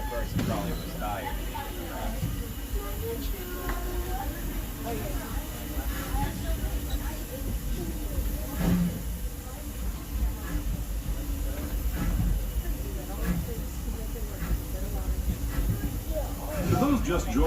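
A Disneyland Railroad train rolls along with a steady, broad rumble and hiss that persists throughout, while people talk over the running noise.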